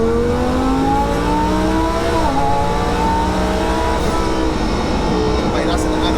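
A twin-turbo 1200bhp V10 Lamborghini Huracan in Corsa mode pulls hard through third gear, its close, loud engine note climbing and dipping steadily with throttle changes and a faint airy whoosh from the wastegates.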